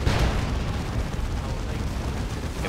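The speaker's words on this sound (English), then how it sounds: "Avatar taking tons of damage from those las cannons." Imperial Guard lascannons fire on the Eldar Avatar in a Dawn of War 2: Retribution battle, heard as a dense, continuous roar of booming blasts and rumble.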